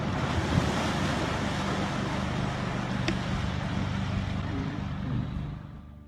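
A river flows with a broad, steady rush of water, a dense wash like surf or wind across the channel, loud and unbroken before fading slightly at the end.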